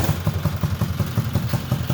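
A small 1961 Sportrider engine idles up close, its steady single-cylinder putt-putt thumping in an even rhythm with a light mechanical clatter and no talking over it.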